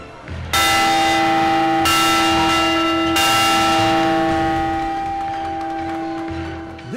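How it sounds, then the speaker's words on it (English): A large bell at a ballpark is struck three times in quick succession, each loud metallic clang ringing out and then fading in a long, slowly decaying hum. "And the Bombers even rang the Padres' bell."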